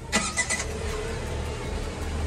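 A new car's engine cranks and catches in a couple of quick bursts, then settles into a low, steady idle rumble close by, with no talking.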